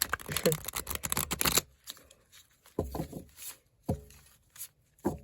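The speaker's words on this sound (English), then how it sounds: "See if we can shuffle it so they don't end up upside down, right side up." A deck of tarot cards is shuffled in a quick riffle of dense flutter, followed by several separate short bursts of cards being cut and tapped together, close and crisp with a quiet room around.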